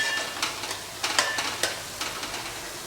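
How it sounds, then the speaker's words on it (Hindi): Onions frying in a pan until golden brown for Rajasthani boti masala, a steady close sizzle with scattered crackles and scraping stir clicks, no talk. "प्याज को बढ़िया भून लेंगे, हम पका लेंगे।"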